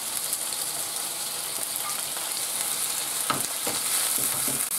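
Shrimp sautéing in a frying pan with chillies, a steady bright sizzle close by, joined near the end by a few scraping and clicking stirs of a utensil, no talking.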